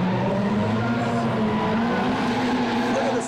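A drift car at the 2005 Formula D competition in Wall, New Jersey, its Yokohama tires squealing in a sustained, loud screech under engine roar, with a commentator's voice over it.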